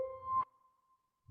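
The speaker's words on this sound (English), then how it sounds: "this is the splash page sound" A bank app's splash-page branding sound: a short layered tonal chime that settles into a single sustained pure tone, fading softly over about a second.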